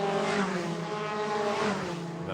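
Race cars sweeping past the old pits at the Spa-Francorchamps circuit, a steady wash of engine roar and tonal drone at moderate distance, with a faint tire squeal hinted in the continuous noise.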